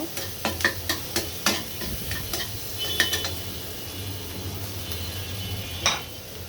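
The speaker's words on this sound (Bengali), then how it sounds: "এখন পেঁয়াজটা আমি হালকা ভেজে নিব, হালকা ব্রাউন কালার করে ভেজে নিব।" Onions lightly frying in a pan sizzle steadily while a spoon scrapes and taps in a quick run of rhythmic strokes, then stirs more loosely with scattered clinks.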